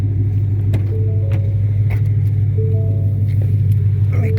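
A Ford Mustang GT idling as it warms up in cold weather, a steady deep low rumble held close and constant, with faint clicks and brief tones over the top.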